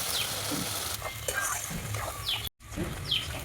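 Ground ginger, garlic, chilli and onion masala sizzles in a pan under repeated stirring and scraping strokes. The frying runs continuously apart from one brief dropout.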